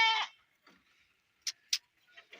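A goat gives one short, nasal bleat at the start, close and clear. Quiet follows, with faint scattered clicks and soft rustles.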